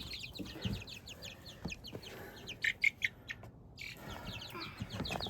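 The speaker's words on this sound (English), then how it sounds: "And the chicks are now in their home." Chicks and chickens in a newly built backyard chicken coop give quick, high chirps and clucks, with a brief cluster of louder peeps midway over steady outdoor background noise.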